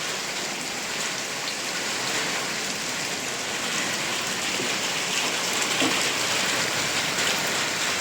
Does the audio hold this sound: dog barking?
no